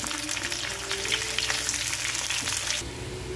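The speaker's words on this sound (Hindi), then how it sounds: "ऐसे इसको भूनना है तेल में।" Bitter gourd frying in hot oil in a pan, a steady dense sizzle with crackling bursts throughout, dropping slightly in intensity near the end.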